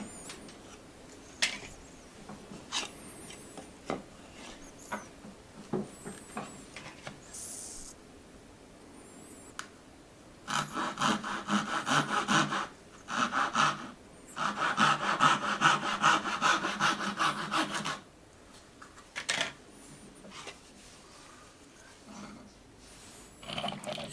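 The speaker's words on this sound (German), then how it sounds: "Die äußeren Ecken lassen sich sägen." A Japanese hand saw cuts the outer corners of a wooden board for hand-cut dovetails: steady, rhythmic rasping push-pull strokes, close and clear, with pauses between bursts of cutting.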